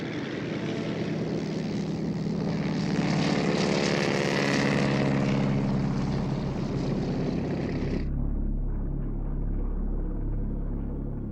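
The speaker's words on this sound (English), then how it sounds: "a faint drone of approaching aircraft was heard over the United States naval base at Pearl Harbor" Deep, steady drone of approaching propeller aircraft over the US naval base at Pearl Harbor on the morning of 7 December 1941, loud and sustained before dropping abruptly to a lower rumble.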